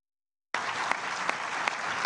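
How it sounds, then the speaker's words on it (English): A room full of delegates at the United Nations Security Council breaks into sudden, sustained applause, dense steady clapping that starts abruptly and holds at an even level with no voices. "Applause erupted in the usually staid United Nations Security Council"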